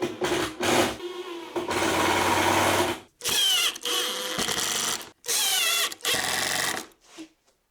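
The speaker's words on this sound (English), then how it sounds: "I'll drive 4 screws on each side." A power drill drives screws into a motor lift bracket on a table saw build, heard as several loud, close bursts of whirring separated by short pauses.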